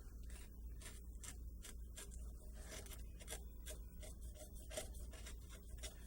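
A 35mm number 7 gouge carves into wood for an osprey carving, producing a steady series of short, scraping cuts, one after another at an even pace, close and quiet with no talk.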